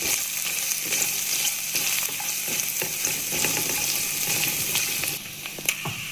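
Green chillies and bay leaves fry in hot oil in a pan, making a close, steady sizzle with occasional light stirring clicks throughout.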